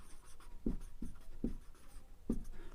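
Chalk or marker strokes on a board during a Class 11 complex numbers maths lesson: four distinct short taps and scrapes spaced about half a second apart, fairly quiet and close, with no talking.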